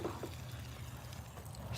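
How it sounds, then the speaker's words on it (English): A soft, continuous trickle of water pouring while watering plants, steady and close, with a low hum underneath. "I'm trying to water things as I talk to you."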